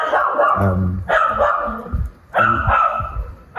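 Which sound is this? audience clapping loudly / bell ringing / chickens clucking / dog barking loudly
dog barking loudly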